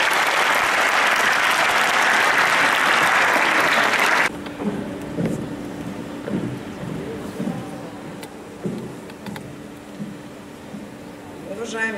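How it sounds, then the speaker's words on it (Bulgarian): Audience in a school hall at a gymnasium anniversary celebration breaks into loud, dense applause for a few seconds, which cuts off abruptly and gives way to quiet room noise, scattered thumps and a faint voice. "Моля за вашите аплодисменти."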